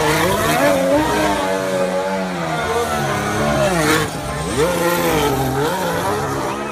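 A toy race car's engine sound revs loudly, its pitch rising and falling in sweeping surges, close and continuous with a brief dip midway.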